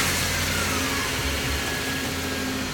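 A 1.8L 7AFE engine in a Toyota Corolla AE102 wagon runs with fresh spark plugs, a loud, steady mid-pitched hum close up with a slight rise in revs and no talking.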